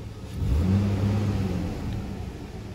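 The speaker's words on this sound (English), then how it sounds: "idle is nice and smooth and idling around" A Toyota Tacoma 4.0 pickup truck engine idles low and steady at about 750 to 800 rpm, rumbling evenly close by, with a faint mechanical hum and no voices.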